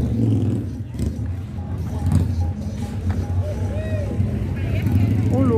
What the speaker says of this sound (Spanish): Miren cómo vienen las lanchas ahí. Miren, ahí viene otra vez llegando